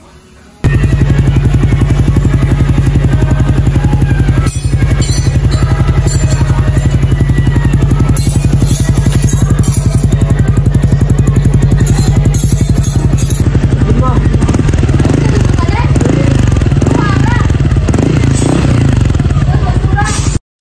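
A motorcycle with a restored exhaust pipe runs loud and close, its engine revving and idling in a dense, rumbling drone with rattling mechanical clatter, steady throughout.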